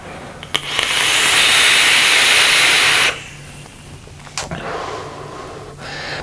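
Mirage mechanical vape mod firing Rolling Fog coils gives a loud, steady vapour hiss lasting about two and a half seconds. After it cuts off, a quieter hissing tail follows, broken by a few faint clicks.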